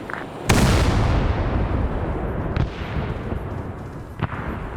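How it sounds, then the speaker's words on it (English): Artillery fire in the video game Arma 3 SOG Prairie Fire: a heavy boom opens into a long rolling rumble, with a couple of further distant blasts following, loud and continuous. "Great artillery use"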